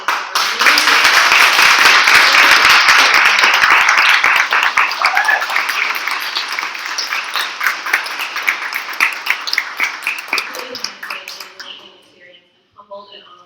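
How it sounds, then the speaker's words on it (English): A symposium audience applauds in a dense, loud burst of clapping that holds strong for several seconds, then thins into scattered claps and fades out near the end. "I would just like to invite all of us to give a big round of applause"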